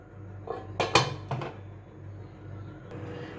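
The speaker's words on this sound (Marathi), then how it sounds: "आता एक 15 मिनिटासाठी आपण याला झाकण लावून ठेवून देणार आहोत." A metal lid set down on a pot of kulith (horse gram) sambar, a few close clattering clanks of metal on metal in quick succession, then quiet kitchen background.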